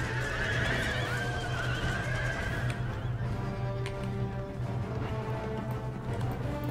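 Cavalry horses neighing in Empire: Total War battle, repeated whinnies rising and fading over a dense rumble of hooves and battlefield noise.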